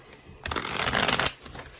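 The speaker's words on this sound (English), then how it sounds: "One more shuffle." A deck of oracle cards is shuffled in one brisk riffling burst of close papery flutter lasting under a second, with quieter handling before and after.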